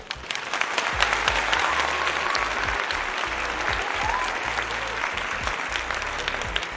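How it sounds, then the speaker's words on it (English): A crowd applauds two female wrestlers after a WrestleMania match, sustained clapping from a large audience at moderate distance, with faint voices mixed in. "Round of applause to those two great athletes"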